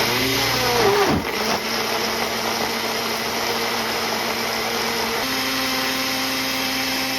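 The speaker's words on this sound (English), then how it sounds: "And now I'm gonna blend this." A blender whirring through dried chilies and onion for pozole, a loud continuous motor drone close by that dips briefly near the start and then shifts to a higher steady pitch, no talk.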